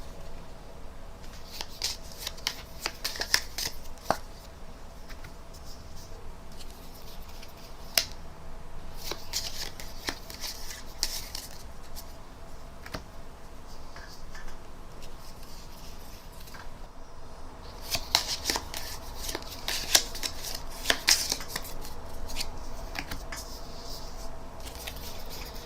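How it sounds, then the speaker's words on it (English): Spectators at a mind-reading card trick performance shuffle piles of playing cards, a steady close riffling and sliding of cards with irregular bursts, louder near the end, with no talking. "shuffling their pile and putting it back on the table"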